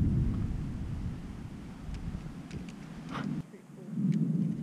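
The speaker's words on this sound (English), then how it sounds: "this is a fucking massive storm." Heavy thunderstorm on a rock climbing multi-pitch route, with a deep rumble of thunder and steady rain and wind buffeting close to the microphone, rising and falling over a few seconds.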